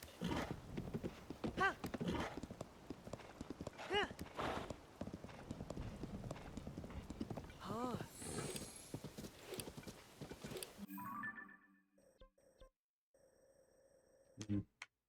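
Wild-tempered horse in The Legend of Zelda: Tears of the Kingdom, with steady clip-clop hoofbeats and an occasional whinny over game music, ending in near silence with a few faint sounds.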